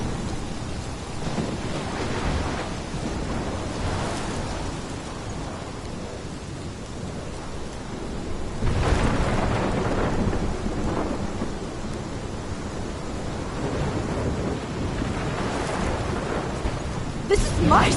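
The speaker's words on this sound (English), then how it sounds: "This is my storm." A thunderstorm from the game Life is Strange rumbles continuously, heavy rain hissing under rolling thunder with a louder crack-like swell midway, dense and unbroken throughout.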